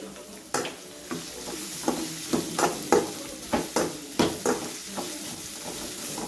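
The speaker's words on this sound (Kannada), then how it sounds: "ಚೆನ್ನಾಗಿ ನೀಟಾಗಿ ಫ್ರೈ ಆಗಲಿ. ಈರುಳ್ಳಿ ನೀಟಾಗಿ ಫ್ರೈ ಆಗ್ತದೆ" Onions fry with curry leaves in a pan while being stirred, a steady close sizzle punctuated by about a dozen rhythmic scraping stirs, loud and clear with no one speaking.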